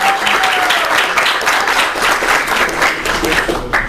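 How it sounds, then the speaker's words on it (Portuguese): Audience applause for volunteers at the opening lecture of a junior data analyst course, a dense, steady wash of many hands clapping close by that holds for the whole stretch. "Uma salva de palmas para eles."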